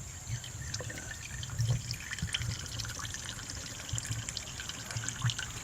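Water dripping from a rusty fuel filter bowl, faint irregular drips and a soft trickle close by over a steady mechanical hum.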